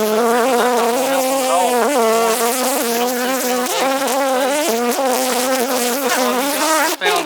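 A dense, steady buzzing of many honey bees swarming close by around a hive, continuous and loud with wavering pitch throughout.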